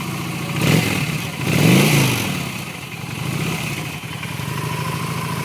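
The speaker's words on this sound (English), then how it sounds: "When you're on it, you get a nice V-twin sound." A 2008 Honda Shadow Aero 750 with a fuel-injected V-twin engine idles close by, rising in two short revs early on before settling back into a steady, even rumble.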